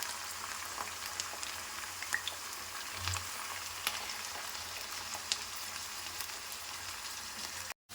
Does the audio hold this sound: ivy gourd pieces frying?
yes